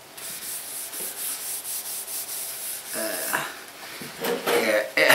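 A wooden air rifle stock is rubbed down by hand in repeated rhythmic strokes, close and moderately loud, with a throat clear and a few other handling noises near the end.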